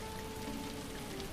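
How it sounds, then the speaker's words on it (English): Steady rain falls and patters on a surface in a continuous, even hiss, close and fairly loud, with no voices. "In the rain."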